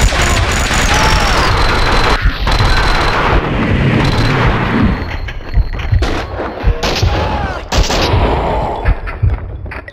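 Rapid bursts of gunfire crack and boom repeatedly over a dense roar in the PC game Max Payne 2: The Fall of Max Payne, with sharp shots scattered throughout and a few heavy blasts, loud and chaotic.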